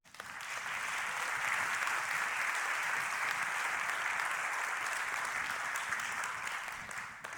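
A conference audience at a YMCA World Council panel breaks into sustained applause, dense even clapping swelling quickly and holding steady for several seconds before tapering off, with no voices over it.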